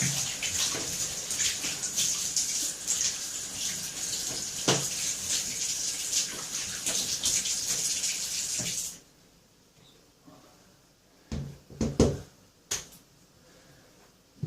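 Water runs in a shower while foam and shower gel are rinsed off hands after hair washing, a steady broad splashing that stops partway through, followed by a few faint knocks and drips.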